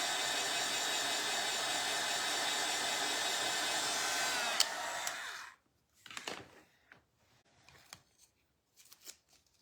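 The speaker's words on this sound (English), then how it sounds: "Where's my little heat tool? There it is. Just gonna dry that really quick." A small craft heat tool blows hot air to dry paint, a loud steady whirring hiss for about five seconds that then cuts off, followed by quiet handling clicks and rustles.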